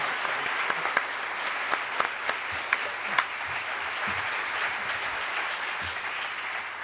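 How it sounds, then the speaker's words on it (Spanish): An audience at an informal public talk applauds its three guest speakers. The clapping is continuous and moderately loud, with a few sharper claps standing out near the start. "Os pido un aplauso para los 3, por favor"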